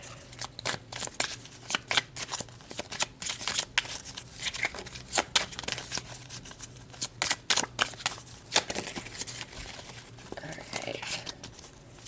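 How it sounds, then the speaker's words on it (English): A slick deck of tarot cards is shuffled repeatedly up close, with crisp riffling and snapping bursts in quick irregular runs, alone without talk. "let's pull some more cards"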